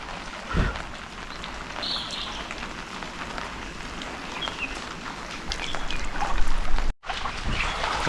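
Monsoon rain falls in Konkan, Maharashtra, as a dense, steady hiss of drops with scattered patters on surfaces. Near the end a brief break cuts into the rain before it resumes.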